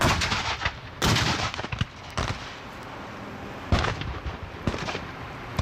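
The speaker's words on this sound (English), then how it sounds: "Firing. 5-piece from the right. 2-second intervals." An artillery battery fires a five-gun salute at two-second intervals, and each gun lands as a loud, sharp boom that rolls out over open ground. The reports come in quick succession with no talk between them.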